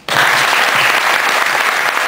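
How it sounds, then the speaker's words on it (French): Applause from a conference audience in Paris for the event organisers, a dense, steady wash of many hands clapping close and loud, filling the whole stretch without a break. "il faut vraiment applaudir à tous ces gens-là"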